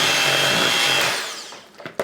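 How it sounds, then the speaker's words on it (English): A blender runs loudly, whirring through cream cheese, evaporated milk and powdered icing sugar for about a second before spinning down to a stop, followed by a couple of sharp knocks. "So now I'm going to blend this together until it's nice and creamy."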